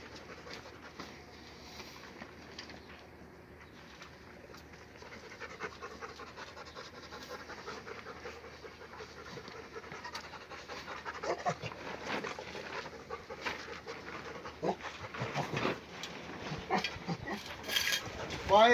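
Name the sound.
dogs panting outdoors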